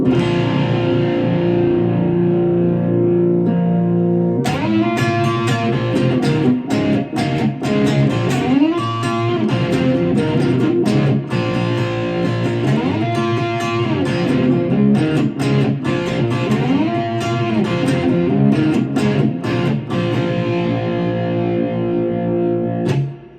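A heavily distorted cigar box guitar plays a gritty riff after a quieter opening, thick sustained fuzzy notes with sharp picked attacks, loud and alone.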